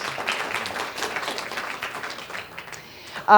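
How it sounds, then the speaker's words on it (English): Light audience applause greets a speaker coming on stage at a political panel event, scattered claps mixed with faint murmuring that thins out toward the end before a sudden loud bump. "Yes, applause around."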